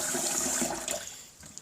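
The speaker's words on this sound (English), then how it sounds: "we just take the jug, put in some water here" Water running into a Vitamix blender jug: a close, steady gush of pouring water that thins and tails off near the end, with no talking.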